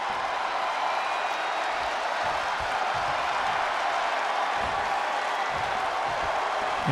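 A wrestling video game arena crowd cheers in a steady, dense roar that holds at an even loudness across the whole stretch.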